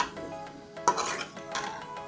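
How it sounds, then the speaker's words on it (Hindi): Ivy gourd and potatoes are stirred together in a pan, with a spoon scraping and clinking against the metal in a couple of brief bursts over a low background. "कुंदरू और आलू को अच्छे तरीके से डाल के हम इसको अच्छे तरीके से मिक्स करेंगे"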